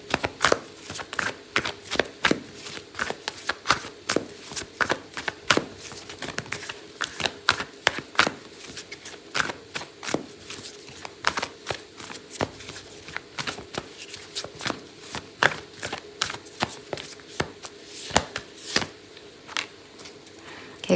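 Oracle cards shuffled for a tarot reading, a long run of crisp, close riffling snaps and taps in uneven bursts with no talk.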